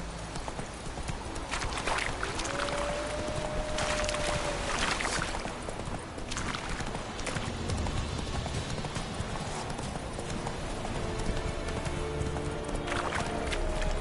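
Hooves of the horse Roach clip-clop steadily in Witcher 3, loud and close, with a brief whinny-like tone and ambient game sounds behind.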